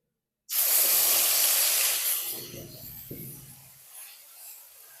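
Coriander leaf paste poured into hot mustard oil in a Bengali village-style kitchen sets off a sudden loud sizzle that roars at once and then slowly fades to a softer crackling hiss.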